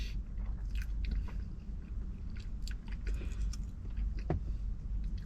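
Someone bites into a pastry-topped bakery pie and chews it up close, soft crunches and wet mastication over a low background rumble, with no talking.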